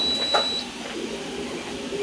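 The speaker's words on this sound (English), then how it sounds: "As soon as I walk in there, the timer goes off." An electronic timer beeps faintly in a room where an Anycubic Photon Mono X resin printer is working, a thin high tone under steady background hum.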